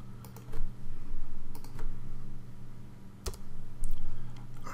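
Code is typed on a computer keyboard in quick, irregular bursts of close clicking keystrokes, with brief pauses between runs and a few sharper key taps.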